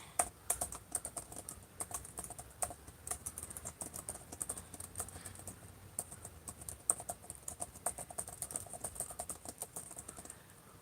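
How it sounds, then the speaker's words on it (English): Steady, quick keystrokes on a computer keyboard while emails are typed, a continuous patter of light clicks with no talking. "I'm typing out some emails because people are writing to me about the book."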